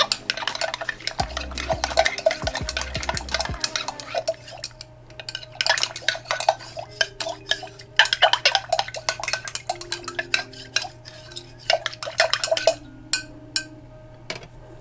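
A utensil stirs a homemade lavender facial mist mixture in a container, with a quick rhythmic scraping and clinking against the sides. The stirring is close and continuous, pausing briefly, with a faint low hum underneath.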